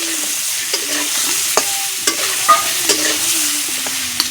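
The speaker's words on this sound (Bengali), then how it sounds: "এখন আলুগুলো ভাজা করে নেব, সুন্দর করে আলুগুলো ভাজা করে নেব।" Potatoes with turmeric frying in a pan give a close, steady sizzle, with a spoon clicking and scraping now and then as they are stirred.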